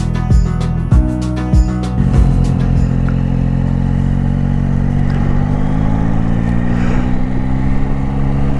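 A Yamaha Tracer 9 GT Y AMT motorcycle with a fully automatic transmission is ridden, first with a few sharp clicks and knocks, then a loud, steady engine drone rising gently as it pulls away.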